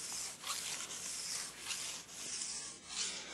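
A file is drawn along the steel side edge of a ski to sharpen its bevel, working from tip to tail, giving close, continuous rasping strokes in a steady back-and-forth rhythm with no voices.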